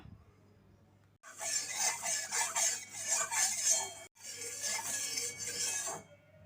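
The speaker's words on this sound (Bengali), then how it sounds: "এবার আমি চালগুলো ছেড়ে দিলাম এইভাবে ধীরে ধীরে চালগুলো সুন্দরভাবে ভেজে নিতে হবে" Gobindobhog rice frying in a spoonful of ghee in a hot wok, a steady bright scraping and stirring hiss running continuously close up, with one short break midway before it resumes.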